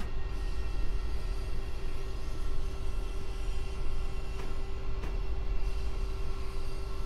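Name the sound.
green V-IRM train passing, from a video game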